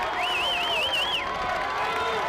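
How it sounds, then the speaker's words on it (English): A wild crowd cheers and roars at a high school football semifinal at the North Haven Turf Complex, with a steady wash of voices and a whistle-like warbling call rising above the noise. "It is a wild crowd here at the North Haven Turf Complex."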